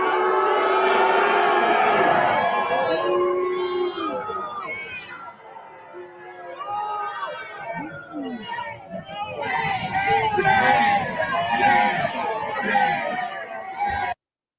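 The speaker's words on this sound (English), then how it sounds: "I do love that they're chanting shame in English." Rally crowd at a protest over an ICE detention chanting in rhythm, a loud, dense mass of voices throughout with cheers and shouts mixed in.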